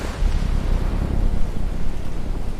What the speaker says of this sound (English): Rain tore through Enugu. Violent winds shook the mansion.